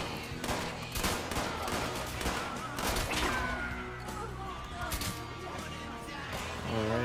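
Dense bursts of gunfire crackle in Fallout 76, with rapid overlapping shots and impacts aimed at the player, and a voice talks faintly underneath.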